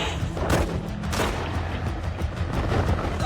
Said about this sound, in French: Il y a un échange de coups de feu